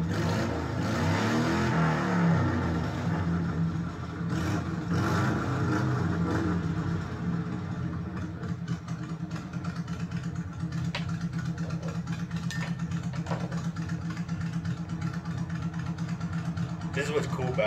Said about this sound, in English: Oh, we got the motorcycle intro there.